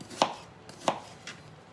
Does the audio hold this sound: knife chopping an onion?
yes